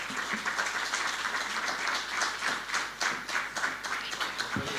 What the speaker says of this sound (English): Please let's keep the round of applause going